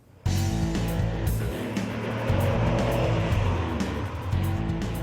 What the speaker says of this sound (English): As I'm currently driving one of these 512 BBs in North America